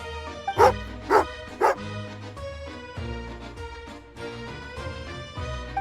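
A dog in the video game Genshin Impact gives three sharp, loud barks in steady succession over a bed of sustained in-game music, with the music continuing alone afterward.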